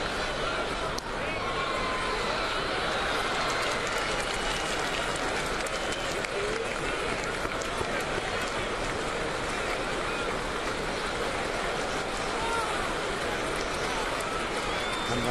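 A large baseball stadium crowd at a 2009 Blue Jays day game on a Friday fills the air with steady, broad applause and cheering that stays even throughout, with faint talking mixed in underneath.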